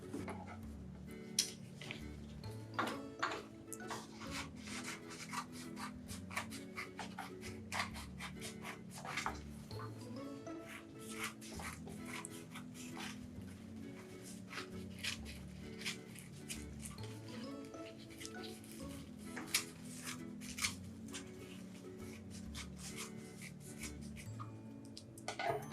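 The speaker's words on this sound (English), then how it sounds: "Now we're going to go ahead and take our scissors and cut it out." Scissors cutting out a paper heart, a long stretch of close, quiet snipping and scratchy rustling in uneven bursts, with no talk.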